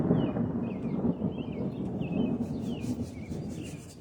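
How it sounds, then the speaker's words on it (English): A low, rolling rumble of thunder fills the background while small birds chirp intermittently overhead. "And there is the thunder, and Daisy comes running."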